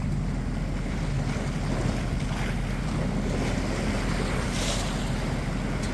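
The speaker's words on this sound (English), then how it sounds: "Can you hear the waves? Can you hear them splashing?" Sea waves wash and splash around a small boat rounding St Alban's Head in fog on a choppy, confused sea, a constant rushing roar mixed with wind buffeting the microphone and no voices.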